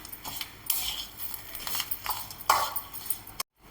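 Upma breakfast premix being stirred with salt in a pan, giving soft scraping and light clinks of a utensil against metal, close and fairly quiet, ending in a brief silence.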